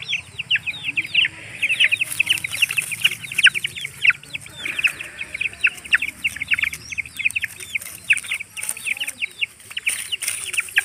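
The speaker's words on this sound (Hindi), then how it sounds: "भारी खतरनाक चिक्स हैं ये।" Parrot-beak chicks kept for show, eating tomatoes: a busy stream of quick, high clucks and cheeping notes repeating close by throughout, over a faint low background rumble.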